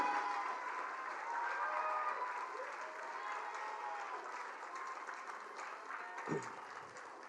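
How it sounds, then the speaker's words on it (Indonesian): A large Indonesian crowd at a Democrat party rally gives loud sustained applause for Prabowo Subianto, a dense, even roar of clapping that holds throughout, with a faint voice surfacing near the end. "berikanlah tepuk tangan sekeras-kerasnya kepada Bapak Prabowo Subianto"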